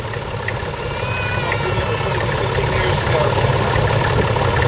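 A heavy old tractor engine idles close by at the Malvern Autumn Show, Worcestershire, with a constant low, throbbing rumble that holds steady throughout.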